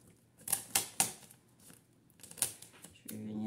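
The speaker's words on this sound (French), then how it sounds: "Donc, hop, je mets mon scotch." Several sharp, crackling strips of tape pulled and pressed down close by, in quick separate bursts, ending with a longer rasping pull.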